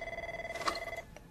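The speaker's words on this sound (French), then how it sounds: "C'est le téléphone qui sonne!" A telephone rings in a comedy film scene, a steady electronic trill lasting about a second and then cutting off.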